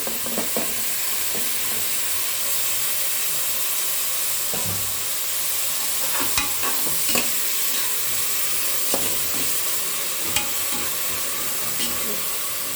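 Mint, curry leaves, coriander, tomato, onion and chillies fry for chicken biryani in a steady hissing sizzle, with intermittent spatula scrapes and clicks against the pan.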